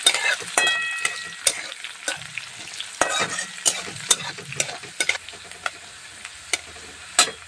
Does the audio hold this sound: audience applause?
no